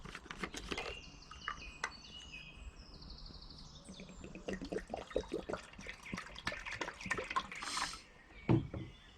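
Water splashes and trickles in short bursts over a crackling fire, with a louder gush near the end.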